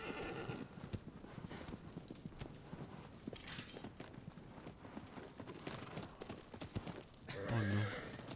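A horse in the video game Shadow of the Colossus (PS4 remake) gallops with steady, continuous hoofbeats, then neighs near the end, with someone talking over the game sounds.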